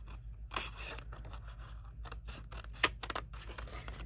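Scissors snipping along score lines in stamped card stock, making a close, quiet run of crisp cuts and short crunchy snips, with no voices.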